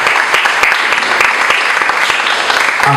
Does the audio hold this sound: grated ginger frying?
no